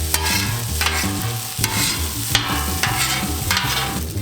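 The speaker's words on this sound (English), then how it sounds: "Now we're gonna throw the potatoes in." Potatoes sizzle and fry on a Camp Chef griddle in butter and bacon grease, a steady loud crackle with a spatula scraping and stirring through it, no voices.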